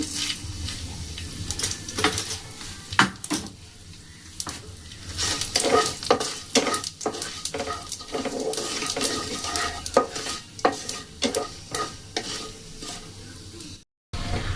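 Two dried red chillies and panch phoron crackle and sizzle in hot oil, with repeated spatula scrapes and stirring clatter over a steady loud frying hiss, cut by a brief silence near the end.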